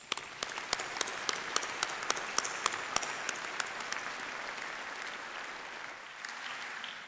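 A large audience applauds staff at a university graduation ceremony in a big hall, steady dense clapping with sharper individual claps standing out, sustained throughout and easing slightly near the end.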